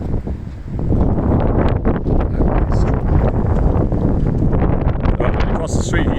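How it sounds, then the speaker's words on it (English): Strong gusts of wind buffet a handheld camera microphone on a city street walk in Minsk, Belarus, producing loud, continuous low rumbling and thumping that persists throughout, with a voice briefly audible beneath it. "that wind almost blew the camera out of my hand"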